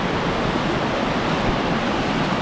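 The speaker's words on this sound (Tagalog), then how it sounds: "Lagas-las po ng agos" Rushing water pours over a remote waterfall dam, a steady, dense roar with no breaks, loud and close throughout.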